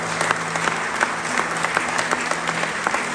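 A congregation at a church revival meeting in Budapest claps, with sharp individual claps standing out over a steady crowd wash and a low sustained hum underneath.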